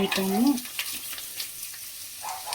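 Two bay leaves hit about 50 grams of hot oil for vegetable pulao, a close steady sizzle and crackle with a brief tonal scrape at the start, fading slightly toward the end.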